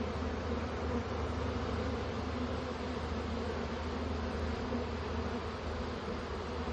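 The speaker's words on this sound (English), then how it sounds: "All these bees you see sitting still and fanning." Honeybees from a swarm captured on a T-post fan their wings, making a dense, continuous buzzing hum that stays steady and close throughout, with no talking.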